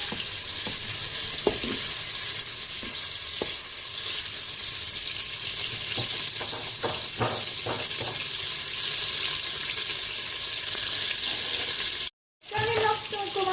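Veal pieces browning in a Cookeo pot with a constant hiss of sizzling fat, broken by scattered clicks and scrapes from a wooden spoon stirring, then a brief dropout near the end.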